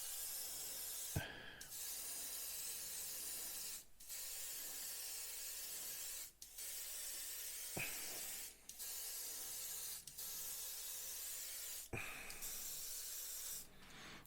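Tamiya semi-gloss paint is sprayed onto model kit panels from an airbrush, a continuous faint hiss broken by brief pauses and a few soft clicks.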